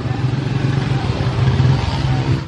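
A motorcycle taxi engine drones steadily with a low throbbing hum, a close continuous road-vehicle rumble without clear revving.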